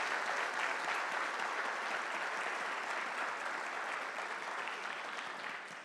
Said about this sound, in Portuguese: vamos dar mais uma salva de palmas para eles em nome de Jesus